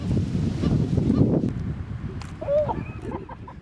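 A large flock of skuas and gulls calls over a rich fishing sea off Oman, with short cries and squawks rising above a steady rumble of wind and background noise.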